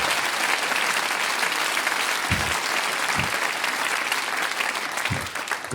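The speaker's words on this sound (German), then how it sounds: "Der klassische Applaus à la «Ah ja, stimmt»." A comedy club audience breaks into loud, dense applause after a joke, a sustained wash of many clapping hands with a few low thumps, easing slightly toward the end.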